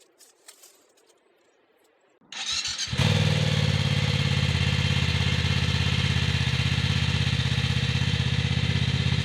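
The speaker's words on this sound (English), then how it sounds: "that's the bike being warmed up" A motorcycle engine is warming up. After a few faint knocks it starts abruptly and settles into a loud, steady idle with an even, throbbing pulse that continues to the end, close to the microphone.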